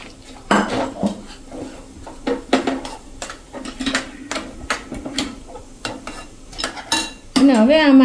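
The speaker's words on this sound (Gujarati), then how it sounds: "આ રીતે હલાવતા જશું" A spoon stirs semolina into a mixture in a pan while making chakri. Close, irregular clinks and scrapes of metal on the pan repeat throughout, with no talk.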